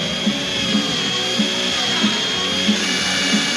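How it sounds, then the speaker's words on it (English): A power drill whines steadily, with a faint rhythmic bump about every two-thirds of a second as it spins. "drill turn fast but push very slowly"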